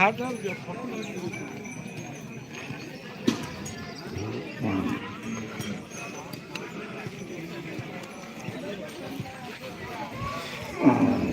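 Bullocks running at the Ghatanji cattle market race, with a rumbling crowd and loud talk over the patter of hooves through a steady, busy outdoor din.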